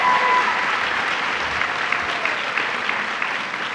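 Sustained applause from a crowded breakfast audience in New York, steady dense clapping filling the room for several seconds with no talk over it.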